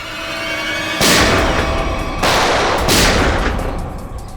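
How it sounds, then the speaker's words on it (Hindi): Three loud, booming gunshots spaced about a second apart, each followed by a rolling echoing tail. "गोली की चलाई, सुन लो।"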